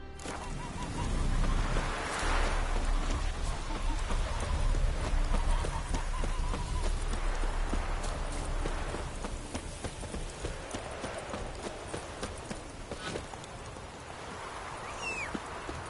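Roach the horse galloping in The Witcher 3, a steady, fairly close clip-clop of hooves over game ambience, slightly louder early on and easing later.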